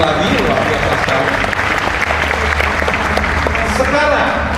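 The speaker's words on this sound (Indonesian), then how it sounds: "yang duduk tepuk tangan" Seated audience at a large seminar in Solo applauding loudly and steadily throughout, a dense wash of clapping from a big crowd with a low hum beneath.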